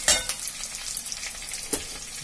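Onion and green chilli frying in mustard oil, a steady close hiss with a few sharper crackles and spoon scrapes near the start and again toward the end; no voices.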